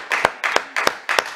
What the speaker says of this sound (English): Let the saints of God rejoice and give God a clap